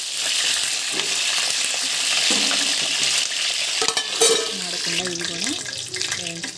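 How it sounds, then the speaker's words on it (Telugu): Eggplant pieces fry in hot oil for a masala gravy, giving a steady, loud sizzle that runs the whole time, with some stirring and faint clatter toward the end. "ఆయిల్లో వేసి వేయించుకోవాలండి"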